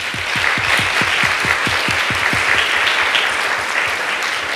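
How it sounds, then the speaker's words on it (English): A room of conference attendees at a gender summit breaks into steady, loud applause, with a few rhythmic claps standing out near the front as the clapping carries on throughout. "I want us all to give ourselves a round of applause again for your participation."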